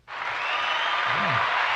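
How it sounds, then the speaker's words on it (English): Office audience applause rises sharply and holds as continuous dense clapping for a couple of seconds, with a brief voice underneath. "Continued applause, right?"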